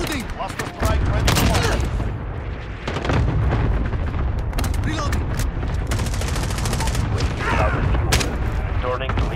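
Cluster strike explosions and rapid gunfire in a hardcore team deathmatch on the Shoot House map of Call of Duty Modern Warfare: loud, sharp bursts of shots and heavy booms follow one another densely, with a game voice briefly underneath.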